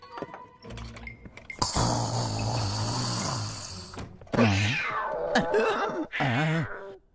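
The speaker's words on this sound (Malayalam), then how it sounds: "പൂച്ചക്കുട്ട, എന്താ ഇവിടെ ഒച്ച വെക്കുന്നേ?" A cat meows several times up close, drawn-out wavering cries after a burst of loud broadband noise.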